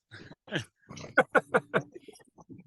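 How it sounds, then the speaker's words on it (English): A dog barks in a home in a quick burst of four or five sharp barks near the middle, set between softer vocal noises and moderately close. "Well, now my dog's barking."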